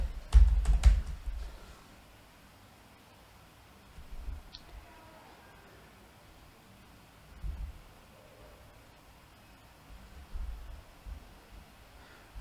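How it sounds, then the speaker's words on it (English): Computer keyboard typing in a quiet room, heard as a short burst of clustered clicks at the start followed by a few faint, scattered taps over a low background hiss. "So in this search, you just start typing SAP Fiori Tools."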